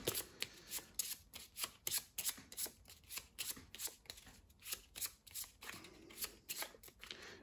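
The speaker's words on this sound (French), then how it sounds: "Donc on mélange les cartes qu'on a dans la défausse." Playing cards from a discard pile are shuffled by hand, a rapid series of crisp riffling bursts in a steady rhythm, close and clear with no talk.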